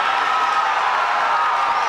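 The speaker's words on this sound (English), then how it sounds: "And you can hear by the crowd that Bowie has gotten it." At a high school district wrestling final, a large indoor crowd cheers and roars loudly and steadily for about two seconds.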